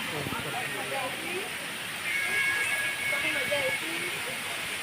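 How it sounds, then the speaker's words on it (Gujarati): A waterfall at a forest Shiva temple pours down with a steady broadband hiss, filling the whole span at moderate level while people speak faintly nearby. "અહીંયા એક ઝરણું પડે છે પાણી ઉપરથી જે ભાખરામથી આવે છે"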